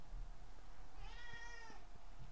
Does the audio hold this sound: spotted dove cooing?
no